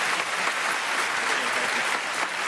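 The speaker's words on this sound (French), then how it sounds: "Applaudissements." Steady audience applause from a studio crowd at a French television show, dense and even from start to finish with no voices over it.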